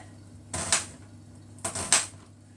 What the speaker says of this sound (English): so now we'll just slice it in slices